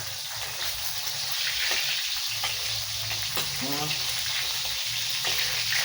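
Barungoy fish frying in a pan in a home kitchen at breakfast time, a steady close sizzle running throughout with a few clinks of stirring and a brief bubbling burst near the middle.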